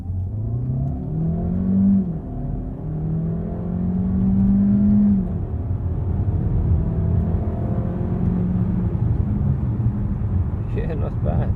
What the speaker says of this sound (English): Alright, it's time for acceleration.